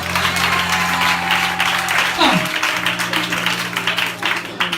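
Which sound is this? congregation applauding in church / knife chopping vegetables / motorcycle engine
congregation applauding in church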